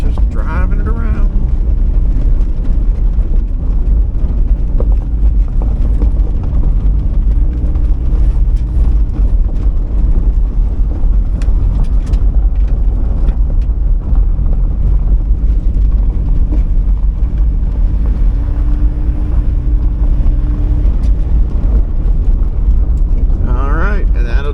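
A 1997 Mazda Miata NA with good oil pressure being driven on the road, its engine a steady low drone mixed with road rumble and wind buffeting that continue throughout.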